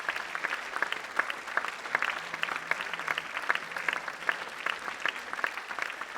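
Steady applause from a festival crowd greeting director Nabil Ayouch at Angoulême, a continuous patter of many hands heard from a distance, with individual claps ticking out rhythmically above the mass.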